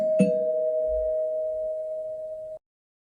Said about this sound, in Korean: 초인종 소리가 들린다.